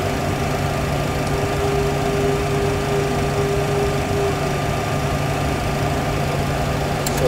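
A steady engine drone with a sustained whine hums evenly throughout, loud and constant, with no voices, from a Boeing 737 jet engine idling on a runway after an engine failure.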